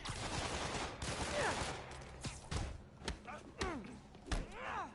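Gunfire in Marvel's Spider-Man, a scattered run of sharp, punchy shots and thuds mixed with whooshing game effects, close and loud, while someone talks over the action.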